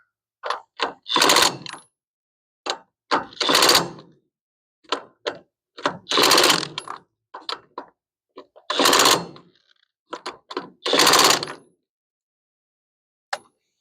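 Trailer wheel lug nuts being tightened, a series of loud, close mechanical bursts in clusters of short hits and longer rattling runs, spaced by silent gaps.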